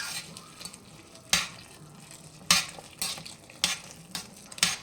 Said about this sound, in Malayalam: അടുത്തതായിട്ട് ഇതിലേക്ക് തിളച്ച വെള്ളം കുറേശ്ശെയായിട്ട് ആഡ് ചെയ്ത് കൊടുക്കുകയാണ്.